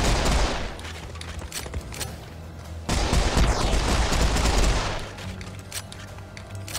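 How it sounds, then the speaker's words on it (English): Twin Desert Eagle pistols blaze away in the shooter Serious Sam 4, a dense, loud run of rapid overlapping gunshots that runs without a break and swells midway, with heavy booming low end beneath. "I love the double pistols."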